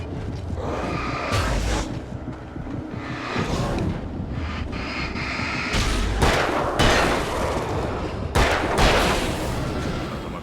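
Bursts of gunfire and booming blasts from the game Alan Wake, with sharp cracks rising over a constant windy rumble, several shots spaced across the stretch.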